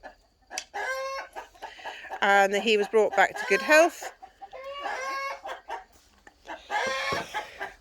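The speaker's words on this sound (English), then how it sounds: "Excuse the chickens." Chickens cluck and squawk loudly nearby on a farm during hoof trimming day, in several bursts with a rooster-like crowing call among them, while a person talks between and over the calls.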